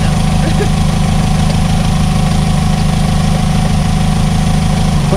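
A 2003 VW Beetle engine idles on its own after sitting abandoned, running rough with a steady, loud low drone and a continuous rattling hum, close by and without pause.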